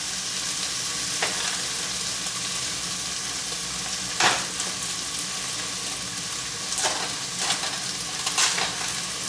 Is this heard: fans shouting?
no